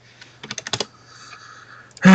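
A computer keyboard typed on in a quick run of about six crisp clicks, close and distinct against near silence, then a short hum and a loud abrupt noise at the very end.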